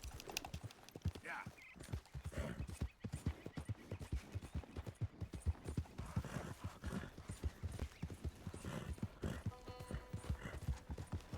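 Horse galloping in the video game Red Dead Redemption 2, rapid rhythmic hoofbeats with a whinny and occasional gunfire, close and continuous, with people talking over it.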